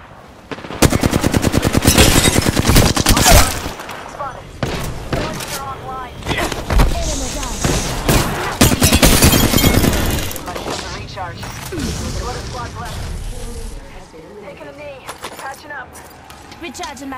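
Heavy gunfire in an Apex Legends match rattles out in loud, rapid automatic bursts, with cracks and shattering impacts. It thins into scattered shots toward the end, and voices speak intermittently over the shooting.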